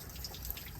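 Coolant drains from the radiator drain plug of a 1975 Lincoln Continental during a radiator flush, a faint, close, steady trickle with scattered drips, no talking.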